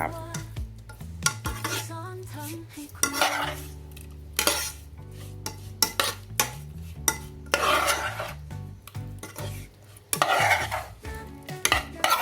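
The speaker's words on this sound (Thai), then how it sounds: "คลุกเคล้าให้เข้ากันเลยครับ" Sliced liver salad with seasoning powder being tossed and mixed in a bowl, a steady run of close clinks, scrapes and stirring knocks of utensils against the bowl, with no talking.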